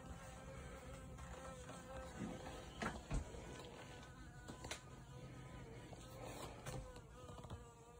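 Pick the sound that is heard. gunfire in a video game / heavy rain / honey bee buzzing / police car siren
honey bee buzzing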